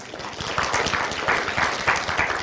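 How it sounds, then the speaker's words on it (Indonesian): A group of workers gives a brief, lively burst of applause, brisk overlapping clapping that stays loud throughout. "Beri tepuk tangan yang lebih keras ya."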